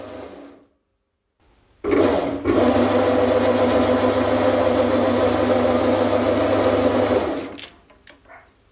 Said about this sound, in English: The final thing left to do is knurl the handle to give it a better grip.